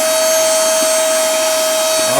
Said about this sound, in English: Even you can use the vacuum to clean.